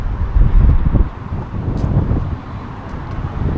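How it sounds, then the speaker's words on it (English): Wind gusting outdoors in an open countryside setting, buffeting the microphone with strong low rumbling bursts at first, then easing to a steadier, softer blow with no talking. "It's a little bit windy at the moment."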